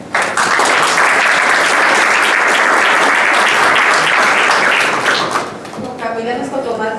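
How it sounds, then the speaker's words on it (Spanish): Loud, dense applause from a conference audience greeting coffee-export panel speakers, sustained for about five seconds before tapering off as a voice begins speaking. "Un fuerte aplauso para ellas."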